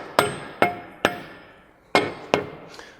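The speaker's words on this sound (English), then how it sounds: "if you are going to tap it in, that you try and do it fairly evenly" A hammer taps a new front wheel bearing into place on an MK5 GTI, five sharp, ringing metallic strikes spaced unevenly, close and distinct with brief decay between blows.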